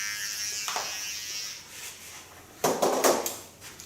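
Electric hair clippers buzz near the head while shaving the side of long hair, a faint high whine with brief louder passes as the blade touches the hair.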